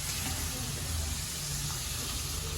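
Tempering (vaghar) for pav bhaji sizzles and hisses steadily in a pan, a dense continuous crackle with a low rumble underneath, broken by bits of background talk.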